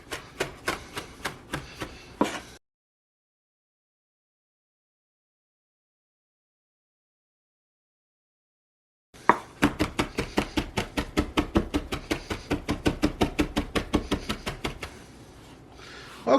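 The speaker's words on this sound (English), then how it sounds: "And then you want to chop it up nice and fine." Fresh thyme leaves chopped finely with a knife on a board, a quick run of close, sharp rhythmic strikes, then a pause of silence before a longer, steady burst of rapid chopping.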